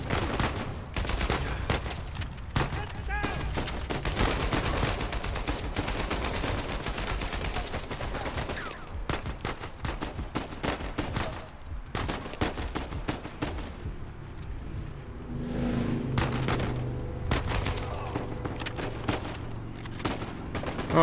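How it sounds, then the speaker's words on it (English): Rapid hip-fired gunshots in Uncharted 4 crackle in dense, continuous bursts, loud and close, with brief pauses between volleys and a few heavier impacts. "I don't know if that worked, that hip fire."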